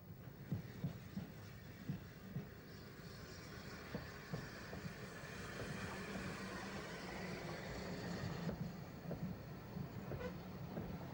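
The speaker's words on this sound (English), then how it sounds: "This is Stepney, returning to Horsted Keynes with the push-pull on the extension." Bluebell Railway steam locomotive Stepney hauling a push-pull train back toward Horsted Keynes on the extension, a steady rumbling run with rhythmic wheel clatter and rail noise, moderately loud and building slightly toward the end, with no voices.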